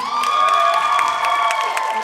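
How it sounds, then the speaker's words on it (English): An audience at a comedy hypnosis show in Marshall County, West Virginia, cheering and whooping for a favourite statue, a steady loud crowd roar throughout. "just give them the loudest cheer"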